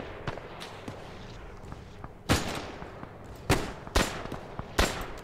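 Thompson submachine gun fire in Arma 3, several sharp separate shots heard fairly close against a quiet background, spaced unevenly across a few seconds.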